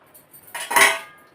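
A metal lid lifted off a pot of boiling basmati rice, giving a short clatter and scrape of metal on metal that swells briefly and then fades, close and clear with no voices.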